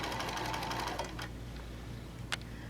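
A sewing machine fitted with a quarter-inch foot stitches quilt pieces together, a close, rapid mechanical whirring for about a second before it slows to quiet ticks.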